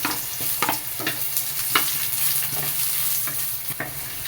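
Onion sautéing in a little oil in a home kitchen pan, a continuous close sizzle broken by repeated stirring clicks and scrapes of a utensil, no one speaking.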